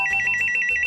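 A telephone rings with a rapid, warbling electronic trill that repeats steadily and loudly throughout the short moment, with no voices over it.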